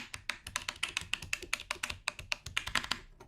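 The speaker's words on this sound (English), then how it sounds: "So this sound is called computer keyboard," Rapid, uneven clacking of keys on a computer keyboard, a dense run of typing strokes at close range.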